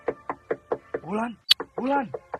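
Knocking on a wooden door, a quick series of five sharp raps followed by a few more, close and clear, interleaved with a man calling out.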